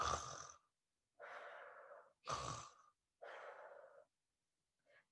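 Children imitate snoring with exaggerated breathy sounds, alternating deep inhaled snorts and airy exhales in a slow, regular rhythm, ending with a brief faint breath.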